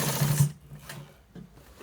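A sewing machine stitching a white trouser gives a short whirring run of stitches that stops after about half a second, followed by a brief faint second buzz.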